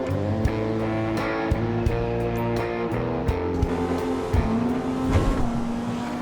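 In GTA V Online, a custom JDM car's engine hums smoothly at a fairly quiet pitch while it drives, with clicks and bumps and a rising note near the end, and no one talking.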